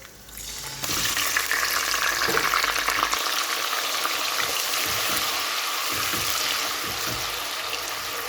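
Onions and garlic hit hot oil and burst into a loud, steady sizzle that fills the kitchen, continuing close and even for several seconds after an abrupt start.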